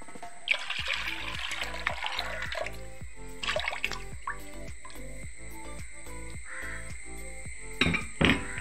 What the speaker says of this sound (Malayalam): ഈ തേങ്ങാപ്പാലിലേക്ക് ഒഴിക്കാം.